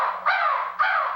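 A human voice imitates a crow, giving two loud, harsh caws in quick succession, close and alone.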